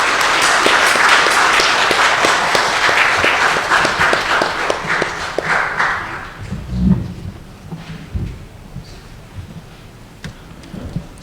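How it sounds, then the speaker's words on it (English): Audience applause welcoming speakers to a panel at a climate and spirituality event, loud full clapping that thins out after about six seconds into scattered claps, soft thuds and footsteps. "please join me in welcoming them with a round of applause"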